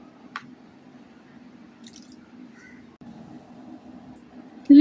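Thick yogurt (curd) is poured into a beef biryani pot, giving soft, wet squishing and dripping sounds over a low steady background hum, ending in a brief louder thump.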